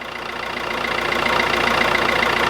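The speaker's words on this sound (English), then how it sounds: "van started." A van engine idles steadily just after being jump started with a portable power pack, a close, even mechanical rumble with a slight knocking pulse, building a little in loudness and running alone without voices.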